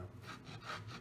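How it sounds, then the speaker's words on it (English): A serrated knife saws through smoked brisket in a few steady back-and-forth strokes, a close, soft rasping rhythm heard alone. "I'm using a serrated blade because it saws"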